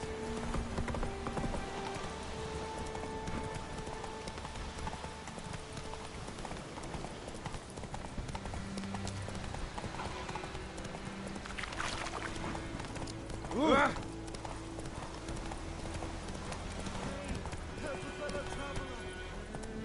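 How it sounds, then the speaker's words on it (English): A horse's hooves clip-clop in the video game Witcher 3, a steady trotting rhythm heard under spoken dialogue and ambient game sounds, with a brief louder accent midway. "Not so fast, Roach. Whoa!"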